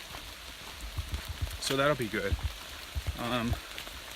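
Steady rain falling on the Appalachian Trail, a constant soft hiss of drops close by, heard under someone talking.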